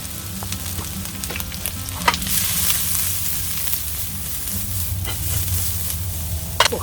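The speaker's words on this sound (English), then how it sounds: "So a little glug of sesame, and then in with your chopped ingredients." Chopped ingredients hit smoking-hot sesame oil and fry with a steady, loud close sizzle that holds throughout, with a few sharper crackles and pops rising above it.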